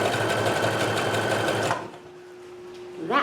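A sewing machine stitches a skirt in a steady, loud, fast mechanical whir with a motor hum, running about 1.7 seconds before stopping abruptly, followed by a faint hum and a brief rustle.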